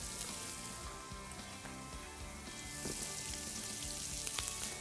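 Butter melts in a pan with coconut milk, giving a faint, steady crackling sizzle that swells slightly toward the end, with no voices.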